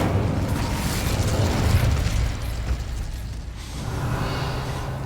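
A roaring, whooshing burst of fire from an Incendio spell in the game Hogwarts Legacy, a broad rumbling blast that swells and then tails off into a low continuous roar.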